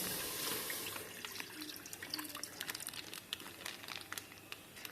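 Half a litre of milk pours into a cooker on a stove as a soft, steady liquid trickle with small splashes, faint and close, while Tamil sweet pongal is being made.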